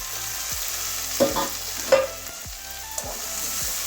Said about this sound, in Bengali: এবারে আবারও সবগুলো মিশিয়ে দেবো, কারণ তেলটা আমার বেগুনে টেনে নেবে।